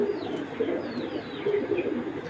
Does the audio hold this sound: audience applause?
no